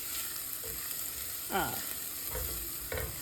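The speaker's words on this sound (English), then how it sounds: "you can smell that garlic cooking" Garlic fries in a pan with a continuous soft sizzle, close by, broken by a few scraping stirs of a spoon; no talking.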